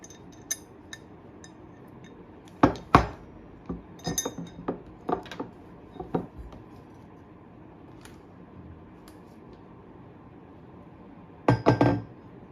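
Screws and metal parts of an Amazon Basics monitor arm clink and tap during assembly, with scattered sharp metallic ticks and small clusters of knocks separated by quiet gaps.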